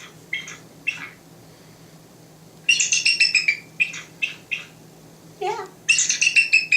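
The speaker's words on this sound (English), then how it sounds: "He sounds just like an eagle." A pet bird gives repeated harsh, piercing calls likened to an eagle's scream, in loud bursts separated by short pauses, with a brief spoken word from a person.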